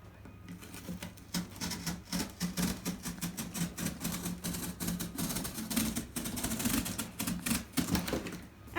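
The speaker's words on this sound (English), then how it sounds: "finish cutting it up here as well" Scissors snipping through material for a homemade puppet theater, a rapid run of close, crisp cuts in an uneven rhythm with brief pauses, quiet and alone.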